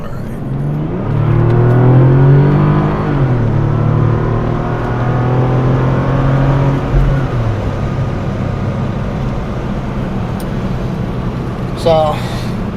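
A Bentley GTC Speed with a twin-turbo 600 hp V12 accelerates along a street, its engine note rising in a strong pull heard from inside the car, with voices talking over it.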